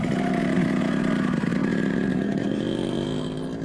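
A key-started motorcycle engine runs in a steady, buzzing idle with a rapid mechanical chatter. It stays loud and close throughout, easing off slightly at the end.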